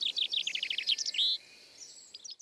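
Birds sing in a quick series of high, bright chirps and trills, a rapid run of notes ending in a short sustained whistle, followed by a few faint scattered calls.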